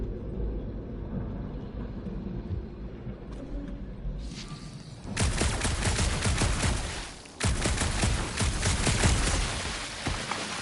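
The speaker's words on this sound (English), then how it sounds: "Shooting your way out of every problem again, Peter?" Dense gunfire bursts from Marvel's Guardians of the Galaxy video game, a loud sustained volley that starts midway, breaks briefly, then resumes, with a low rumbling bed beneath.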